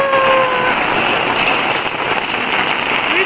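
Heavy rainstorm pouring onto a balcony, a dense, loud, continuous hiss of rain hitting surfaces close by, steady throughout with no talk.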